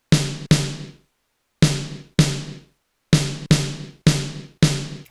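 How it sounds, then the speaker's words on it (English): Eight punchy, heavy snare drum hits in pairs, each thick and fat with a short electronic-sounding decay, played alone with silence between. "Kind of almost electronic beer keg, big fat snare added to it"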